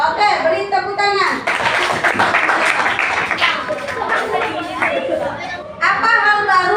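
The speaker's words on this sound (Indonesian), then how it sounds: "Oke, beri tepuk tangan." Children clapping together in a primary school classroom, quick bursts of hand claps mixed with lively chatter and kids' voices, with a short pause before more clapping at the end.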